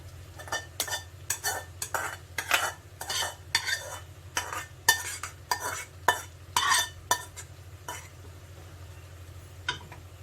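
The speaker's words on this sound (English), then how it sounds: "use 2 forks to mix it together" Two forks stir stir-fry noodles in a pan over a low hiss, clinking and scraping in a steady run of about a dozen close, sharp bursts, with a constant low hum underneath.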